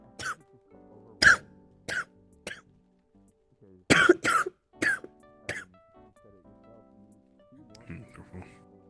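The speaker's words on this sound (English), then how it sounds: "This is me fake coughing." A person gives several short, deliberate coughs and throat clears in irregular bursts, close by, with quiet pauses between.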